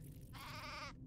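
A single drawn-out sheep bleat from the video game Craft The World, clear and close, lasting about half a second over a low background hum.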